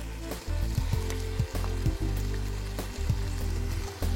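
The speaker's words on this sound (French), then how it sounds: "on ajoute nos saucisses. Et on va les laisser dorer pendant 3 minutes." Sausages sizzle as they brown in a pan, a steady fry with a few stirring knocks and scrapes breaking the hiss, close and fairly loud with no talking.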